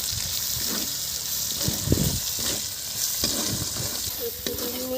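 Egg korma masala with green chilli paste being stirred in a pan, a soft close sizzle with intermittent spatula scrapes and stirring thumps, no talking.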